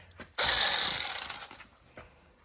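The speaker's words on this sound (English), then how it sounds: "now you want to remove these two screws that are in there." A ratchet wrench backs out 7mm screws on the right rear door latch of a 2017 Chevy Trax, a single close burst of rapid clicking lasting about a second, with faint knocks before and after.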